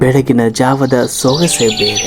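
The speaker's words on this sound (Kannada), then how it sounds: "ಹಕ್ಕಿಗಳ ಚಿಲಿಪಿಲಿಯ ಸದ್ದು" Someone narrates over bright bird chirps that rise into the background during the second half of his speech.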